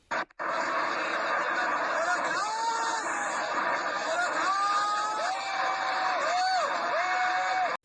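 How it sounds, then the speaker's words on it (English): A distant crowd yells and chants as missiles are launched, rising and falling shouts over a steady roar of outdoor noise, continuous throughout. "So we have people yelling in the background, Allahu Akbar"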